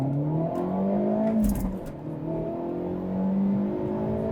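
A Hyundai Elantra N in N mode accelerates hard from 0 to 60, heard from inside the cabin: the engine climbs steadily in pitch, dips briefly at a gear change, then keeps climbing through the next gear.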